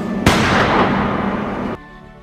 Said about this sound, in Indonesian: tiba-tiba terdengar suara tembakan dari dalam lift